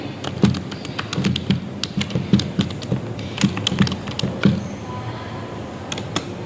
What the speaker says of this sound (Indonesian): lanjut kita masukkan datanya, ketik peringkat kimia